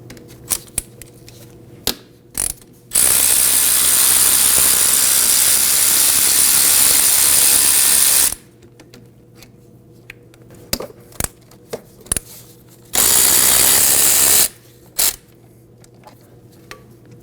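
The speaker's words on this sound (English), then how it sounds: "remove the caliper bolts with a 12mm" Ratchet turning out the 12mm brake caliper bolts on a 1993-2001 Subaru Impreza front wheel, two long bursts of rapid clicking, the first about five seconds and the second shorter, with quiet pauses and a few taps between.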